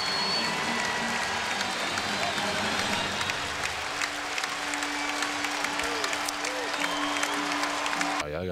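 An arena crowd at the New Jersey Nets home opener cheers and applauds as Vince Carter is introduced, a continuous broad roar from a large audience that stays loud throughout.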